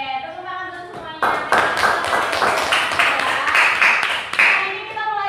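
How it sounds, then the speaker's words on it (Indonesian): A class of junior high school students clapping together in a classroom, a dense run of many hands beating at once, loud and sustained, with brief voices at the start and end. "Oke, tepuk tangan dulu semuanya."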